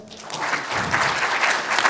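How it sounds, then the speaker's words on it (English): A conference audience claps for a panel at a Salesforce innovation day in Hawaii, dense steady applause throughout, fairly close and loud. "Please applause for our panel."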